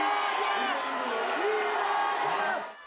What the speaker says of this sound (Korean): 이낙연 전 대표가 인천공항 입국장을 통해 들어서자 전국 각지에서 모인 지지자 1000여 명이 환호합니다